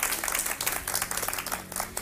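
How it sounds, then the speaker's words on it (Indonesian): Audience applause at an Indonesian Ramadan gathering, a steady dense wash of clapping throughout the short stretch, fairly loud and continuous with no talk on top. "Boleh dong tepuk tangan dulu."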